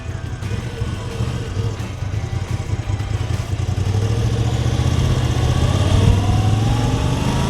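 A Moto Guzzi V85 TT motorcycle engine idles with a throaty chug, then the revs climb into a louder, rising drone, close by with no talking.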